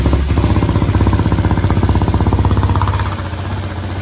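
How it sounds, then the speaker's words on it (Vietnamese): A Yamaha Exciter 150 motorcycle built out to 175cc runs loud and close, its engine chugging in a fast, even beat that softens slightly near the end. "Đây giờ mình nổ máy ha"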